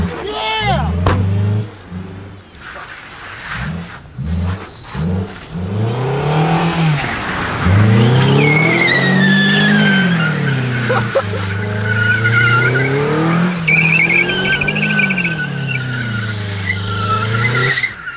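A car engine revving and straining as it is warmed up, loud and close, with repeated rising and falling revs and a tire-squeal-like whine in the upper range.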